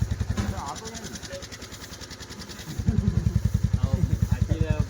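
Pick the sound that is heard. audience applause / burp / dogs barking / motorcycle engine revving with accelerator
motorcycle engine revving with accelerator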